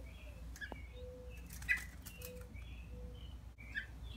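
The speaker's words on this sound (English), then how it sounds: "You can see that they're jumping, flapping, and perching ability is greatly improved from yesterday." Young rescued robins flap their wings while jumping and perching, giving soft fluttering bursts alongside faint chirps and tweets in a quiet indoor space.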